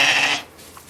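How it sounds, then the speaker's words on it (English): Young lambs let out one loud, close bleat that fades quickly to quiet. "So these are the old lambs."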